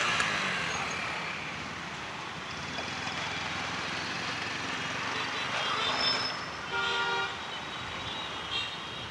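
Busy city traffic in Rajkot, heard from a bike ride, rumbles steadily and fairly close, with a short car horn toot rising out of the road noise near the end.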